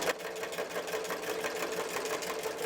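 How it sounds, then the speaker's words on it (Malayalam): A sewing machine stitches through cloth during a repair check, its rapid, even needle rhythm running steadily and close up with no talk over it. "എന്നിട്ട് നമുക്കിനി ഒന്ന് സ്റ്റിച്ച് ചെയ്ത് നോക്കാം"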